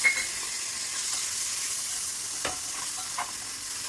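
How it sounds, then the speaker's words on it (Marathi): Spices fry in hot oil for an egg masala gravy with a splash of water added, giving a steady close sizzle under a couple of brief sharp spits and clicks, with no talking. "मसाले आपले जळू नयेत म्हणून अगदी किंचित थोडंसं पाणी टाकायचं आहे आपल्याला"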